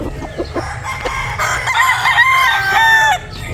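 A Sweater Gilmore breeder rooster lets out a loud, close crow with a long drawn-out final note, preceded by a few clucks from the flock, and no talking over it.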